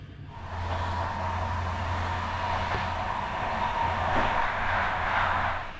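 A Polish low-cost passenger train speeds north, heard from inside the carriage as a steady rumbling hum with continuous rolling noise and a slight swell toward the end.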